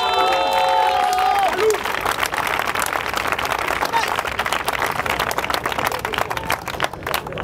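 A church congregation cheers and applauds in praise of the Lord, with dense, steady clapping and crowd noise throughout and a voice speaking briefly at the start.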